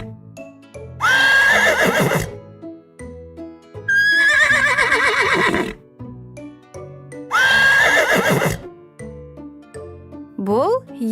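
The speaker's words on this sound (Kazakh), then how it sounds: "Жылқы и-го-го-го-го, и-го-го-го-го дейді" Horse neighing: three loud, shrill whinnies separated by pauses, then a short fourth call at the end, with faint jingling between them.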